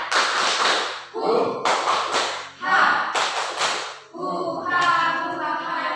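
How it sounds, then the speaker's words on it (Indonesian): A classroom of students does a rhythmic clapping chant (tepuk semangat), loud bursts of group claps in patterned sets, ending in voices chanting together. "Coba kalau begitu kita coba tepuk semangat."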